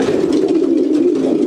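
Racing pigeons coo steadily in a loft in Portsmouth, England, a close, loud, continuous throaty murmur with no talk over it.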